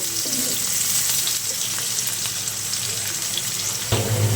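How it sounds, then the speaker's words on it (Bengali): Onions frying in oil until browned for a curry, a constant hissing sizzle with faint clinks and a louder sizzling burst near the end, no talk. "পেঁয়াজগুলিকে একটু ভেজে নেব, একটু বাদামি করে ভেজে নেব।"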